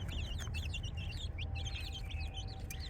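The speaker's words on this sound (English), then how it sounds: "Got some feisty birds in there today." Many small birds chirp steadily in a brooder, a dense, continuous chorus of high, busy peeps over a low hum, close and fairly loud.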